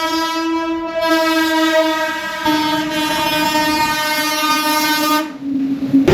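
A passenger train on an overnight run sounds a long, loud, close horn with a rich stacked tone that shifts pitch partway through, over the steady rumble of the moving carriages.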